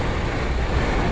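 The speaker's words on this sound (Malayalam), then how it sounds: "നല്ല ശക്തമായ കാറ്റ്." Strong gusting wind buffets the microphone during heavy monsoon rain in Puthuppally, Kottayam, Kerala, near a church, a steady broadband roar with no talk.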